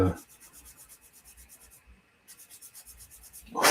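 Gate nibs on a plastic part from a Hasegawa Macross VF-1D model kit are sanded with quick, close, rhythmic back-and-forth scratchy strokes, which stop briefly halfway and then resume.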